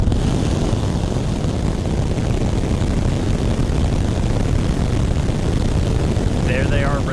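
SpaceX Raptor 3 rocket engines roar on a test stand in McGregor, a loud, steady, broadband rumble lasting throughout with no breaks.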